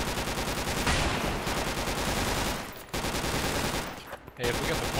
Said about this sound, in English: Burst fire with the MG.